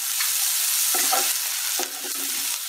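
Curry leaves, chopped green chillies and turmeric get stirred in a hot pan for semiya upma, a loud continuous sizzle with two distinct scraping strokes of the spoon, close up, with no talk.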